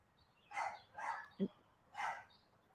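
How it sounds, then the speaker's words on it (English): Dogs in neighbouring yards bark from a distance, three or four separate barks spaced about half a second apart, with a brief higher yip between them, faint over a quiet outdoor background. "Now the dog from that yard and that yard are barking"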